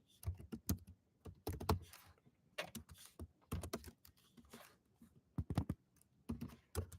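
Clattering computer keyboard typed in quick bursts while code is being written, keystrokes close and fairly quiet with short pauses between flurries and no talk.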